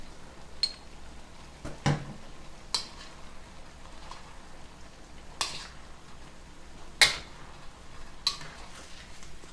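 A spatula scrapes and clinks against a wok as Buddha's delight with cochayuyo seaweed is stir-fried. Several distinct metallic knocks come at irregular intervals over a low, steady background hiss, and no one talks.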